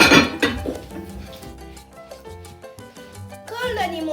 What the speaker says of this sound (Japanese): 蓋をします。